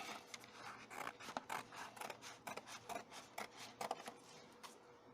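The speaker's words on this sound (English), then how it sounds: "it's time to start cutting out the template" Scissors cut out a paper template for a micro campervan build in quick, raspy snips, close and quiet, some bunched in rapid bursts, with no talking.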